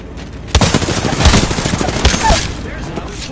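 Video game gunfire in rapid volleys, with sharp loud shots breaking out and continuing as a ragged stream of closely spaced reports, sometimes heavy and booming, under faint voices.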